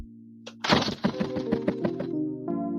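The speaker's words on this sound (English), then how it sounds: "gunshots, but it sounds more like somebody like banging on a door" A gunshot sound effect that comes across like heavy knocks on a door, a quick series of loud dull thuds over a steady low hum, close and ending in a ringing tail.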